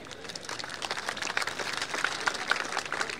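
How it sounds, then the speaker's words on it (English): An audience at a maritime and aerospace exhibition opening ceremony applauds the Royal Malaysian Armed Forces musicians, a dense steady patter of many hands held at moderate loudness throughout. "Also a round of applause for the musicians from the Royal Malaysian Armed Forces."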